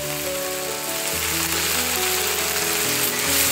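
Vegetables and mustard paste frying in a pan in a village kitchen, with a steady broadband sizzle, close and fairly loud, while background music tones sit underneath.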